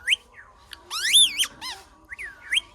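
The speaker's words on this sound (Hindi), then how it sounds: "एक तोता यहाँ है और 2 तोता इधर है" Pet parrots kept at home give a string of sharp, rising whistles, squawks and squeaks, close and loud, in short irregular bursts with brief pauses between calls.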